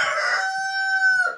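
A rooster on a small homestead crows once, loud and close, a harmonic call that rises and holds steady before breaking off at the end.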